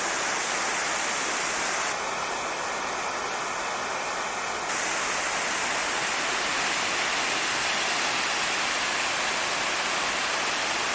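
Fall Creek Falls, a waterfall with water running over moss, gives a dense, constant rushing hiss from nearby, steady throughout with a brief electronic tone partway through.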